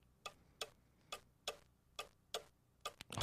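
Pendulum clock in the Gabriel Knight adventure game ticking steadily, seven crisp evenly spaced ticks about two-thirds of a second apart, close and clear over a quiet backdrop, with a louder burst of noise at the end.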